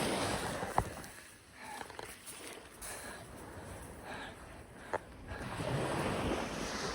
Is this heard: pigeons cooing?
no